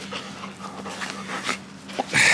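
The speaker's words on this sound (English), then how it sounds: "And we also have our beautiful dog Dakota." A big dog pants in quick soft breaths with faint whimpers, close by and fairly quiet, with a sharper burst of noise at the end.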